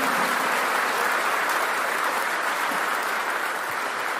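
A church congregation applauding during a Spanish-language service, steady dense clapping from a large crowd that fills the room evenly throughout, with no break.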